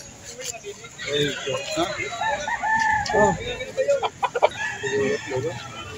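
Chickens and roosters at a busy poultry market in Lipa City, Batangas, with repeated clucking and crowing close by, mixed with people talking throughout.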